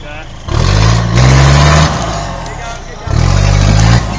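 A car drives up and revs in two loud bursts of mid-pitched engine roar separated by a quieter idle, close by.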